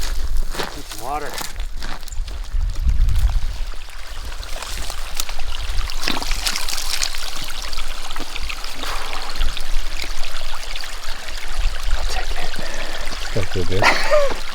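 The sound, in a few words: water trickling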